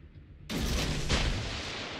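Naval guns firing in the World of Warships game: a sudden loud, broad boom that continues as a sustained roaring rumble, with no voices.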